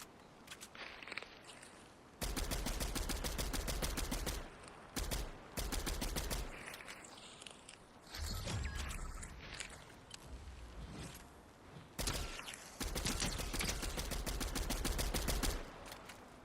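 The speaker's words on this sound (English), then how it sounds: "He keeps shooting at me though." Bursts of automatic gunfire from an enemy player in Fortnite Zero Build, loud, rapid volleys that come in long stretches with short gaps, plus a few footsteps and gear sounds in the quieter moments between.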